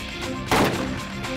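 A single sharp gunshot from a .22 pistol fired at a target, loud and close, with a short decaying tail in the middle of an otherwise quiet moment.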